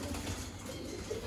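A domestic pigeon coos softly on an early summer evening, low murmuring calls close by over a steady background hum.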